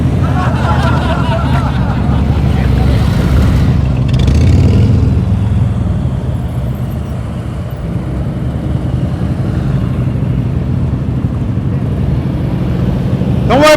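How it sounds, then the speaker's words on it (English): Motorcycles run slowly through a slow-speed riding practice session in Knoxville, Tennessee, a steady close engine rumble with shifting throttle and crowd murmur, louder early on, with a brief voice near the end. "We're not riding skateboards out here. We're riding motorcycles."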